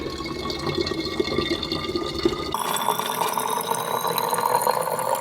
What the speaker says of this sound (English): it's not easy to get the water in the little water bottle hole